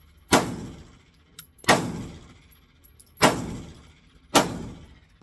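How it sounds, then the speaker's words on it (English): A Hi-Point C9 pistol fired outdoors, four loud sharp shots spaced about a second apart, each followed by a short fading echo, with no talking between them. "I just wanted to test out a good little 50 rounds real quick."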